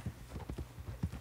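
Horse hooves in the video game Red Dead Redemption 2 clip-clop in a quick, steady walking rhythm, close and soft, with no speech over them.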